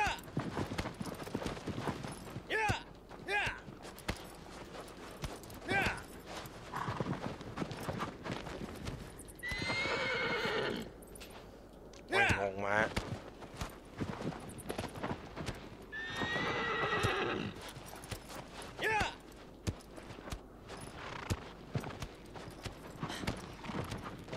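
Horse hooves clip-clop steadily through a Shadow of the Colossus game scene, broken by two loud, drawn-out whinnies, with brief speech in the background.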